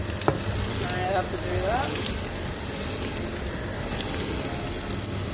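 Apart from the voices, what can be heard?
onions frying and sizzling in a pan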